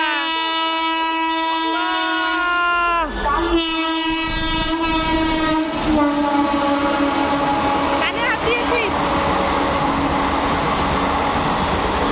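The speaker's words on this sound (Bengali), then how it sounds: "ট্রেন আসছে হর্ন বাজিয়ে ট্রেন আসছে" An express train passing a station, its horn blaring in long sustained blasts near the start, then the heavy rumble and clatter of wagons rolling close by, with a voice heard briefly.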